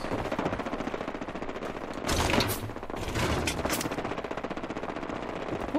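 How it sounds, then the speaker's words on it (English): Minigun fire from super mutants in Fallout 4, a rapid continuous mechanical rattle of bullets at moderate distance, swelling louder midway with sharper cracks before settling back to a steady stream. "Probably super mutants with mini guns"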